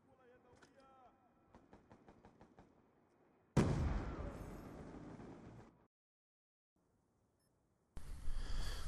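A grenade blast in Black Ops 2 erupts as one loud, sudden burst that rumbles on for about two seconds, after sharp, rhythmic gunfire crackles with talk, then a short silence before another loud burst of game noise.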